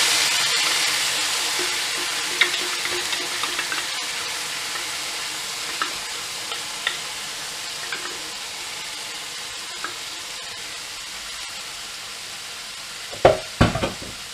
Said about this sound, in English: Okay, our meatballs are warmed through nicely. And in goes all the rest of the potato.